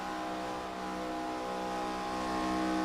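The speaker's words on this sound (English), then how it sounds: "Just listen to the throttle." Race car engine held at high throttle at speed, a steady loud mechanical whine with layered harmonics that builds slightly toward the end, no voices.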